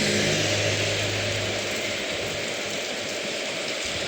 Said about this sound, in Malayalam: മഴയും പെയ്യുന്നു.